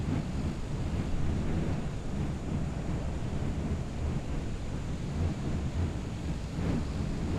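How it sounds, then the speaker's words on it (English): Strong wind roars steadily throughout while flying a plane in a flight video game, a dense, constant low rumble with gusty swells and no voices. "Whoa, the wind here is hectic."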